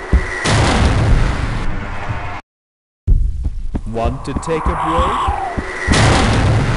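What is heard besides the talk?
explosion in the video game Halfquake Trilogy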